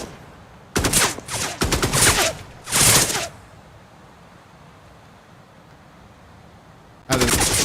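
Several bursts of loud automatic gunfire lay down suppressing fire in the video game Dagger Directive, rattling in clustered volleys, then fading to a quiet ambient lull before another burst cuts in.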